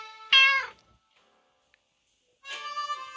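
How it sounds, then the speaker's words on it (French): A domestic cat meows twice, fairly close and clear, with a short silent gap between the two drawn-out calls. "On a un chat."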